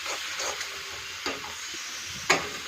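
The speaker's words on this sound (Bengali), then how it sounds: "একটু একটু জল দেব আর বাটনাটাকে কষাবো।" Spice paste sizzles and fries in a pan as it is stirred, with hot water added little by little, giving a steady soft hiss punctuated by a few sharper spatula scrapes and splashes up close.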